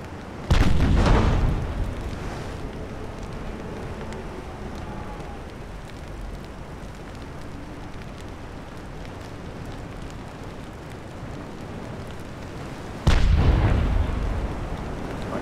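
Naval guns in Ultimate Admiral Dreadnoughts firing two heavy booming salvos, one near the start and one near the end, each a loud blast with a rolling decay over quiet ambient sea noise.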